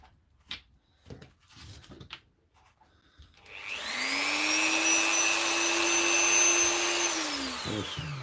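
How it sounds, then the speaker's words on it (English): A few sharp knocks, then a power saw spins up and runs steadily at a high whine for several seconds before winding down near the end, while repairing a Makita battery. "Keep sawing away."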